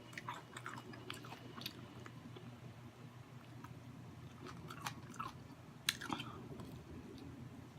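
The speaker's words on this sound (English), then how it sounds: "This chicken is crunchy." Crunchy fried chicken being chewed close up, with scattered crisp bites and crackles over a low steady room hum throughout.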